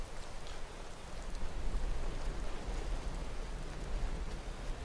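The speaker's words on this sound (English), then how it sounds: "It's raining" Rain falls steadily over Whiterun in the Skyrim video game, a dense, even wash of hissing drops that stays loud and constant with no voices.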